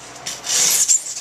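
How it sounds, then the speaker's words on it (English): A hand saw tapers a large carved wooden largemouth bass form in one short, close, raspy stroke. The rough scraping swells and wavers for about a second, with no voices. "I'm going to taper this off just a little bit with my saw."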